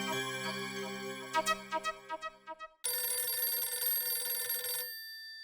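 A telephone rings loudly in a steady electronic bell burst lasting about two seconds, following a short run of tonal beeps, in a Gokuldham housing-society sitcom scene.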